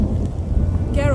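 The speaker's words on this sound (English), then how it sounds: "That a storm?" A thunderstorm in The Witcher 3, with a low rumble of thunder and steady rain or wind noise, and a brief whooshing tone near the end.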